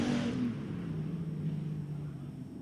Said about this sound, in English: You can hear one of them out there working that throttle real hard